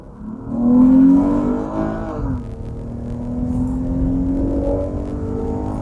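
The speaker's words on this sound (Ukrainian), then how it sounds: "Спробуємо зараз розігнатися від нуля до сотні." A 2021 Jeep Cherokee Limited 3.2 automatic 4WD engine revs up loudly accelerating from zero to 100 uphill, its pitch climbing, dropping at a gear change, then rising again in a steady pull, with no talking.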